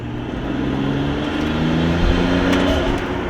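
A Nissan Skyline R33 GTR V-spec turbo engine revving at part throttle, a loud, close, rough drone that swells slightly and holds steady for a few seconds.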